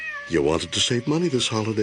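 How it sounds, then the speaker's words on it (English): A cat meows several times in quick succession while a person talks over it, the cries close and fairly loud. "That's the sound of your in-law's cat perched over your bed at 3 a.m."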